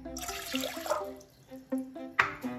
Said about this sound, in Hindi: यहाँ पे 2 कप भी हमने पानी लेना है